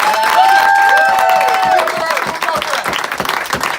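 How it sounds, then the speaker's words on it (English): Audience applause at a motivational speaking event, a dense, close wash of clapping that holds steady and then thins slightly toward the end, with a sustained tonal sound ringing over it in the first half. "give him a round of applause for that"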